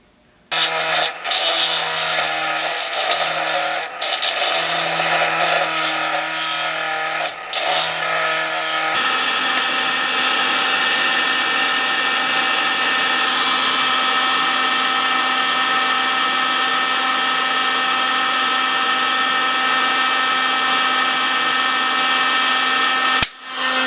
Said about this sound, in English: I'm going to use my little die grinder to clean that out a little bit